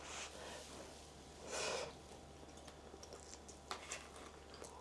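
Someone chews food bought at a Tokyo supermarket, with soft, close, wet bites and a breathy snort or sniff. The room is otherwise quiet apart from a low hum.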